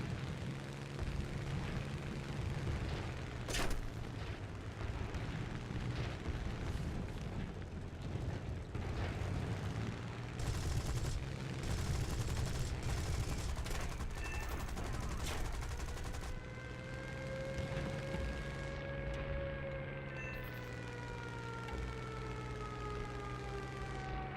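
Aircraft guns in War Thunder hammer at a bomber in dense, sustained bursts, a loud continuous roar of gunfire over droning engines, with a rising whine of engine pitch toward the end.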